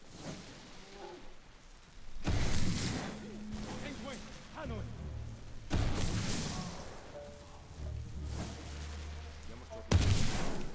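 Heavy explosive bursts from a bomb thrown in Ghost of Tsushima on PS5, three loud booming blasts spaced several seconds apart with rumbling tails and lighter clatter between them, under a talking voice.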